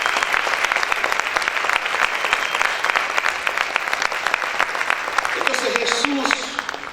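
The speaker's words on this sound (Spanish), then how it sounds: "Ese aplauso es para el Señor" Sustained applause from a church congregation during a Spanish-language sermon, with thick, continuous clapping that carries on for several seconds and a voice rising briefly near the end.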